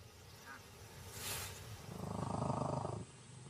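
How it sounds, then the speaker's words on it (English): A low, rhythmic rumbling purr from a large cat swells for about a second, heard close and fairly quiet against faint background noise. "Purring is the motorboat sound that cats make when they're happy, hungry, stressed out, or hurt."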